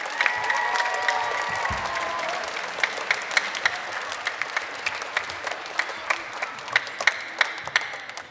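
Outdoor audience applause for a children's song about Selby Railway Station, sung by pupils of Camelsforth Primary Academy at a sunny afternoon summer event, a steady wash of clapping lasting throughout with scattered sharper claps standing out.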